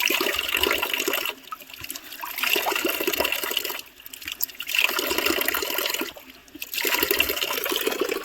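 Cold spring water pours steadily from a stone spout in a hillside village, a continuous splashing gush that dips briefly at intervals, close and fairly loud with no talk.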